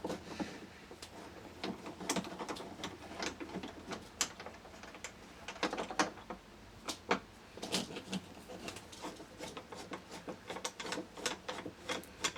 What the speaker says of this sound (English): We just need to remove these 2 screws.